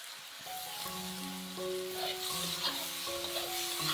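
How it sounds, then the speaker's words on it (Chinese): Five-spice tofu, pork and scallion stir-fried in a wok with salt and soy sauce, soft sizzling and spatula scraping under a faint background hum, moderate and continuous. "翻炒均匀"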